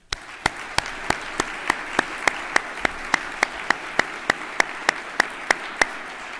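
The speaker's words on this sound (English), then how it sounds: "Let's reward them with a round of applause." Clapping at an awards ceremony comes as a steady, evenly spaced run of sharp claps, about three per second, crisp and moderately loud with no talk.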